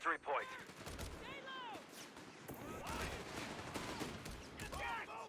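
Gunfire from a deployed machine gun team in Company of Heroes 3, with rapid bursts and scattered shots layered under a busy battlefield mix, alongside background game sounds and a voice talking.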